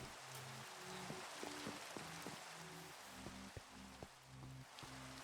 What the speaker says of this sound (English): it is raining. I hate rain when I'm trying to hunt for zombies